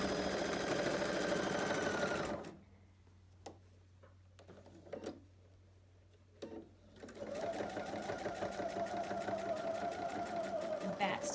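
A sewing machine stitches binding onto fabric, its rapid whirring run starting and stopping in bursts, with a quiet pause and a few clicks between runs, loud and close.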